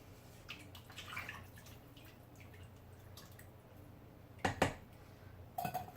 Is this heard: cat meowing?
no